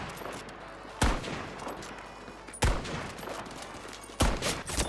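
Gunfire in the shooter game Battlefield 5: three sharp, loud single shots spaced evenly about a second and a half apart, each with a short echoing tail over quiet background ambience.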